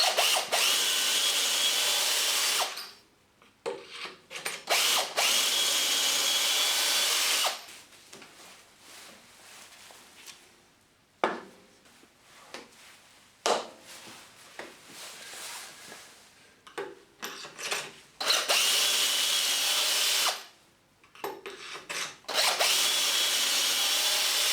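A power drill bores pocket holes in wood in several loud, sustained bursts separated by short pauses and quieter handling noises, with no talking.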